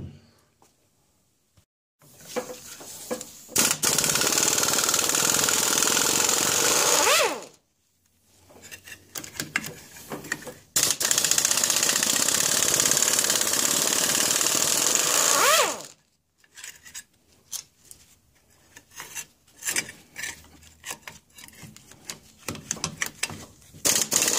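Bolts being removed from the gearcase of a 1979 Evinrude 55 HP outboard: two long, loud stretches of steady whirring from a powered driver, separated by pauses, followed by scattered clicks and clanks of handling parts close by.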